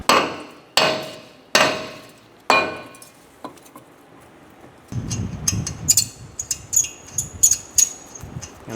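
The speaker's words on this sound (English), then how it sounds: "If it's stuck on, hit it around here with a hammer." Four loud, ringing metallic hammer blows strike a stuck brake rotor on a Subaru Impreza in steady succession, each decaying slowly, followed by lighter clinks and rattling knocks close by.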